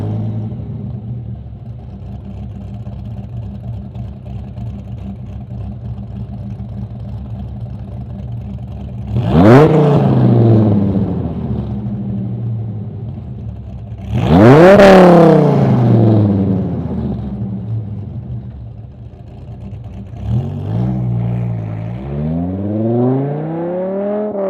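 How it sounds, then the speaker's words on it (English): A Dodge Viper engine with Borla race exhaust, Edelbrock headers and catalytic converters removed idles with a deep, lumpy rumble, then revs hard twice with loud, raspy exhaust bursts, followed by a couple of shorter blips near the end. "Here's the sound of the Viper with the Cat Delete, Borla race exhaust, and Edelbrock headers."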